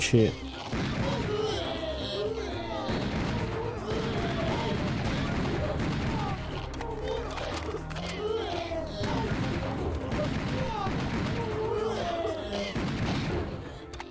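Sustained bursts of gunfire and booming blasts in Serious Sam on PlayStation 5, loud and relentless across the whole stretch, with someone speaking over the shooting.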